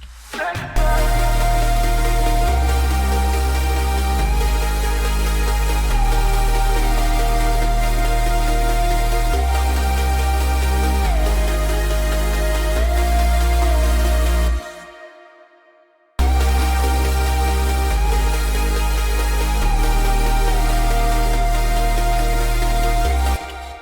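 A full future bass drop with heavy bass, bright layered synth chords and a steady beat, cutting out briefly to silence before slamming back in.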